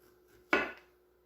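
A kitchen knife slices once through a standing zucchini on a wooden board, giving a single short, crisp cut that dies away quickly in a quiet room.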